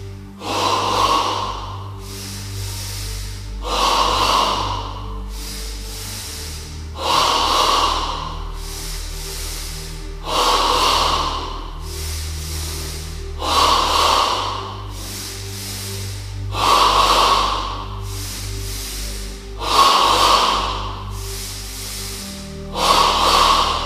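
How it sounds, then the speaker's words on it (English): A person does yoga double breathing, drawing air from the abdomen up into the chest, with about ten slow, even breath cycles. Each deep, airy inhale and exhale is close and clear, with nothing else heard. "in stage 2 of double breathing, the breath moves from the abdomen to the chest"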